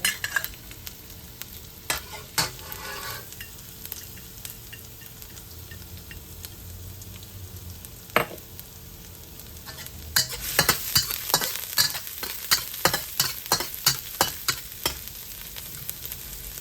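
Ginger and garlic stir-frying in a smoking-hot wok: steady sizzle with scattered sharp clinks and scrapes that grow busier and louder in the second half; no talking.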